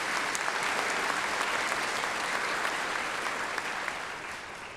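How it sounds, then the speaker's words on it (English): A commencement crowd at North Idaho College applauds faculty and staff with a dense, even wash of clapping that holds steady, then eases slightly toward the end. "a round of applause for the faculty and staff"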